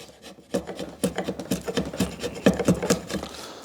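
Hand tool, likely a rasp or file, beveling the edges of a handmade wooden hewing axe handle, with a close steady run of rough scraping strokes in quick rhythm.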